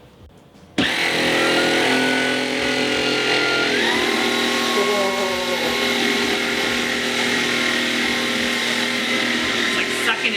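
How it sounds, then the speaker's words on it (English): A Tineco Pure One S15 Flex cordless vacuum cleaner switches on abruptly and runs with a loud, steady high-pitched motor whine and airflow roar, its tone shifting as it picks up hair from the floor. "let's vacuum it up."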